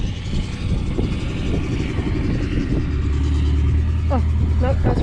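Car reversing back down a road on the Nullarbor with tyres let down to about 10 pounds, a low engine rumble under people talking, with a few squeaky chirps near the end.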